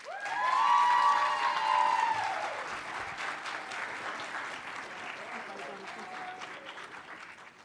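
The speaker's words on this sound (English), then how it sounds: "we're going to start with a round of applause" A round of applause from the audience at a school board of education meeting, steady clapping that swells early and then tapers off, with brief speech over it.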